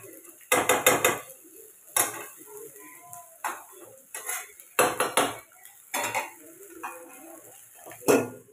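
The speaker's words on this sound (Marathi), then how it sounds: "हेच झाकण आता मी त्याच्यावरती ठेवणार आहे." A metal lid set down on a pan of fish cooking on a stove, giving several sharp clattering clanks in bursts with quieter metallic scraping between them, close by and without talk.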